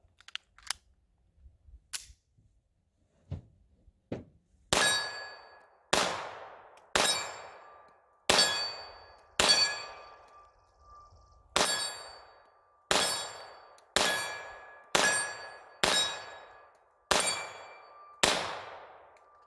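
A Beretta 81 pistol fires at small steel targets, with a few scattered light knocks at first, then about fourteen sharp shots at a steady rhythm. Each crack is followed by a ringing metallic clang and a decaying tail.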